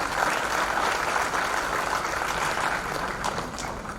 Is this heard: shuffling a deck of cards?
no